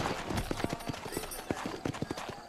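Horse hooves clip-clopping at a quick trot in Red Dead Redemption, a steady rhythmic patter of close hoofbeats with faint background game sounds.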